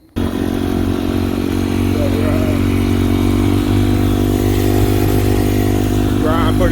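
A Yamaha YZ250F dirt bike with newly installed radiator hoses starts up abruptly and then runs loud and steady close by on a spin, its engine drone constant with slight clatter throughout.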